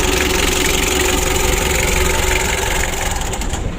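A rebuilt 2017 Mitsubishi L300 diesel engine runs steadily just after starting, a loud, continuous idle rumble with a faint rattle, close up and without voices.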